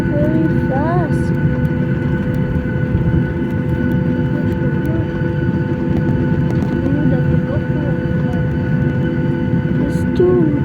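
A Batik Air jet airliner takes off from Jakarta, a loud, steady engine roar with whining tones that fills the cabin continuously, with faint talking underneath.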